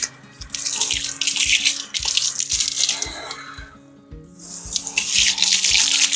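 Warm tap water runs steadily from a faucet while a dog is being bathed at home, a loud continuous splashing stream that pauses briefly midway with soft rhythmic knocks underneath.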